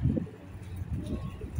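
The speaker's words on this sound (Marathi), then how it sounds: "हे बघा आमच्या इथे किती कबूतर आहे बघा" Pigeons coo from a terrace crowded with birds, a soft, low, throaty burbling that repeats in uneven pulses at moderate distance with no voices over it.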